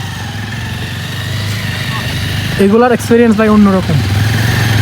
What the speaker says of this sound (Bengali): ওই দিক থেকে দেখেন আর তিনটা বাইক আসতেছে